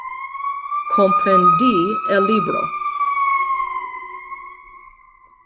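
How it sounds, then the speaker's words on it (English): An emergency vehicle siren wails outside in a long, steady rising and falling tone that carries loud and clear under someone speaking a short phrase, then slowly fades as it passes. "Pardon that siren."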